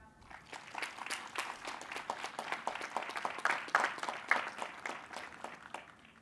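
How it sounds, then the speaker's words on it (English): An audience claps at the 2021 intercultural graduation ceremony at Moravian College, giving steady, dense applause with many overlapping hand claps that hold loud throughout, with no voices over it. "Clap your hands if there is someone here with you today that you are proud of."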